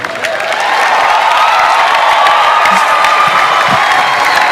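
A large audience claps and cheers for Pastor Matthew Ashimolowo, sustained loud applause with scattered whoops filling the hall, no talking over it.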